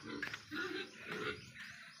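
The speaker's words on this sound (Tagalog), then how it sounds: "dako na ang baboy guys" A big pig grunts in a few rough, throaty bursts, close and moderately loud, with short gaps between snorts.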